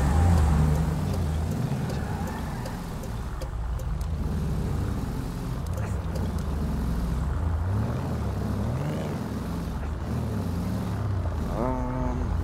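A car engine in GTA 5 roleplay, an old-school car pulling off: a steady, loud droning rumble that rises and falls slightly as it drives, with a faint whine near the end.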